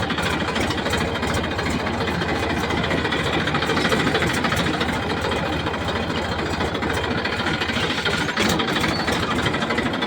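A steady, low tractor engine idles without a break, its rumble constant and fairly loud throughout.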